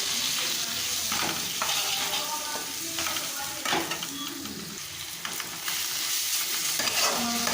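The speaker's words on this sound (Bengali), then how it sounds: "সমস্ত মশলাগুলো ভালো করে কষে নিতে হবে।" Spices and vegetables for Bengali-style khichdi fry hard in a pot while a utensil stirs and scrapes through them in irregular strokes, the loud sizzle running continuously underneath with no talking.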